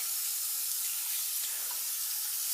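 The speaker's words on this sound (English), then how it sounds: "we want to turn on the faucet, making sure first to wet our hands" Water running from a sink faucet while hands are wetted, a steady close hiss of splashing flow without a break.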